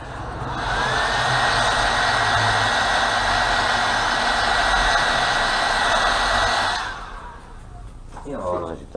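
A hair dryer blows steadily on airbrushed paint on a fishing lure, a loud, close, even whoosh for about seven seconds before switching off, then brief breathy voice sounds follow.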